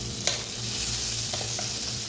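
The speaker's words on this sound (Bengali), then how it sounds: "মশলাটা গন্ধ না আসে একটু ভাজা ভাজা করে নিতেছি" Ginger, garlic, onion and cumin spice paste fries in a pan, a close, steady sizzle with a few soft stirring knocks.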